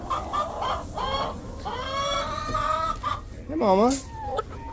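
Hens at a chicken ranch cluck and squawk up close in short, rising and falling bursts, with a louder cackle near the end. A person speaks briefly among them on a stormy Arctic day.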